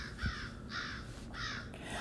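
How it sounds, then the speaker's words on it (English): Crows in winter trees answer a hand-blown crow call with a few loud, harsh caws in quick succession, each one short and rasping, heard fairly close over a soft outdoor background. "The crows call back at me, and from all the trees they rise"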